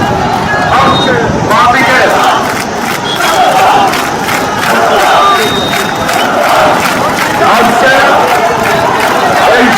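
A crowd of hundreds gathers on a bridge at a road show in Dhaka, with loud, continuous shouting, cheering and babble that rises and falls in dense waves throughout.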